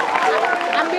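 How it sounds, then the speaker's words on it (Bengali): An audience claps for a student at an award ceremony honoring meritorious students, a brief, dense burst of applause mixed with murmuring voices in the hall. "থানবীর জন্য বড় একটা করতালি।"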